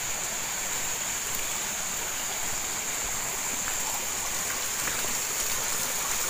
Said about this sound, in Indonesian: Ini sungainya, bro. Ini sungainya.